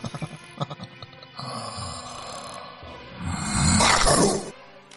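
Loud, exaggerated snoring in a dramatized recreation of the Amityville murders, with rasping inhaled snores and a swelling, throaty groan near the end, heard up close against a sparse, eerie background.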